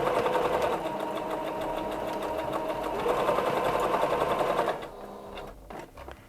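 A sewing machine zigzag-stitches elastic onto a toddler dress, running in a loud, steady whirring rattle before slowing and stopping near the end, with no voices.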